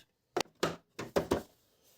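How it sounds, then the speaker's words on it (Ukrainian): Bobbin cover snapping shut on a Brother LS-1217 sewing machine: several close, sharp plastic knocks and clicks in an uneven cluster of about five, with no talking. "Закриваємо крижечку"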